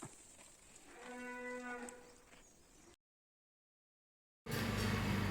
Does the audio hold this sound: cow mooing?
yes